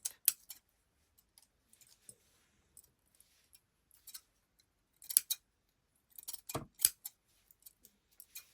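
Scissors snipping a paper needle felting template, with sparse close snips and small clicks at first, then a denser run of cutting crunches near the end, quiet and without talk.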